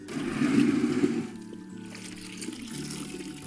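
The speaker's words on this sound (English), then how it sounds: "I'll prime the canvas by soaking the canvas in water first." Water splashes and pours onto a painting canvas being soaked in a studio, a brief gush up front fading into a quieter trickle, with no talking.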